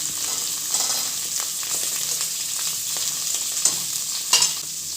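Small shallots and curry leaves sautéing in a pan for thuthuvalai rasam, a soft steady sizzle with occasional spoon scrapes and a couple of sharper clicks near the end, no voices.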